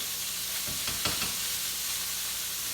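Butter sizzles and foams in a hot pan alongside steak, a steady close frying hiss with a few brief crackling spurts and no talking.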